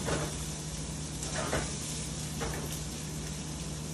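Chorizo and already-cooked potatoes frying in a pan for a breakfast burrito, a steady, loud, even sizzle throughout with a couple of faint stirring scrapes.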